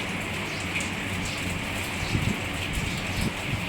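Heavy rain pours down in a dense, continuous hiss with no pauses, loud and close throughout.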